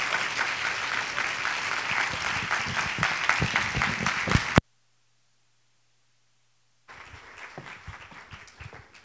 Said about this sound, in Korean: 큰 박수로 우리